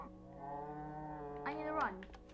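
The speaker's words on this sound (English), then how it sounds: "I'm gonna spawn a cow" A cow in the Minecraft video game lets out a long, drawn-out moo that bends downward at the end, clear and close with no other sounds around it.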